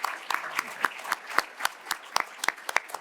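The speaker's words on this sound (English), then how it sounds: "let's give Josh Hale big round of applause" A small audience gives a round of applause for the panelists at a work and philanthropy panel event. The claps are sparse and distinct, close and moderately loud, and keep up steadily for about three seconds.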